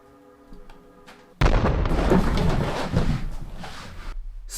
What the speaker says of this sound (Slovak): Séria výbuchov.